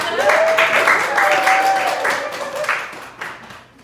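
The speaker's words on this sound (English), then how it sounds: "Clap it up." An audience at a Black authors reading event claps in a lively burst, loud and dense at first, then thinning out and fading to scattered claps at the end, with a voice briefly heard over it.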